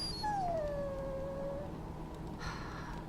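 A dog whines in the fantasy role-playing video game Dragon Age Origins, one long falling whimpering tone that lasts over a second, then quieter breathy sounds over a steady game background.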